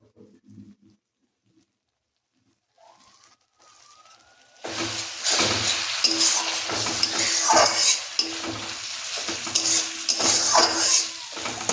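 A spatula stirs prawn malaikari spice mix in a pan: after a quiet start with faint scrapes, a loud, steady sizzle sets in with repeated metallic scraping and clatter against the pan, no talking.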